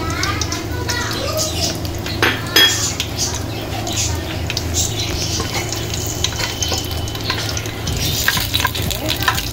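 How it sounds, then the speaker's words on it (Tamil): Cardamom, cloves, cinnamon and other whole spices crackling in hot oil for mutton dhalicha, a steady close sizzle with stirring and occasional clinks of utensils against the pan, faint voices in the background. "இப்போ எண்ணெய் காஞ்சிட்டு நான் இதில் எடுத்து வச்சுருக்கிற இந்த கடைப்பாசி, ஏலக்காய், கிராம்பு, பட்டை இதெல்லாம் சேர்த்துக்கிறேன்."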